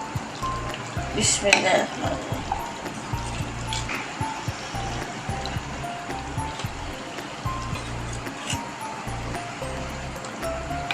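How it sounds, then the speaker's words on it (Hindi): Separated oil (roghan) is poured into a pot of mutton kunna, giving a soft liquid sizzle and gurgle under a man's speech. "अब हमने जो ये रोगन अलग किया था ना, अब हम ये इसमें डालेंगे"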